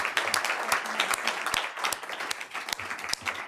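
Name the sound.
audience applause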